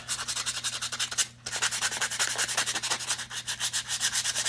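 Steady, rhythmic rasping of sandpaper rubbed back and forth along the edge of a paper file folder, close and continuous, with one brief pause.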